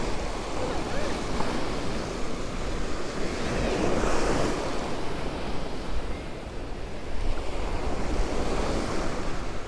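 Ocean waves surge and wash steadily onto a beach during surf fishing, a loud continuous roar of surf with gusty wind buffeting the microphone.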